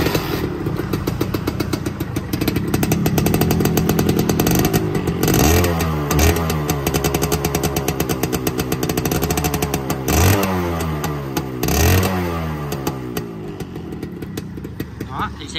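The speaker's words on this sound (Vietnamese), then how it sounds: "Để em nổ máy cho anh em nghe luôn." A rebuilt sidecar motorcycle engine idles with a fast, chugging beat, then revs up several times with rising and falling whines, loud and close, with a voice talking underneath.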